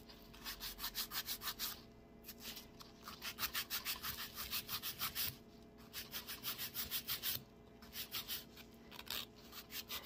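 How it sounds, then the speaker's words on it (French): A nail file rasps rhythmically across resin dip powder nails in quick repeated back-and-forth strokes, close and fairly quiet, in several bursts separated by short pauses, with no talking. "on va commencer par limer nos parallèles"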